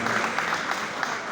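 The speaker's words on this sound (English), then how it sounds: "Mona clap for Bija." A crowd at a comedy show claps, a brief burst of steady overlapping applause at moderate loudness, with speech mixed in.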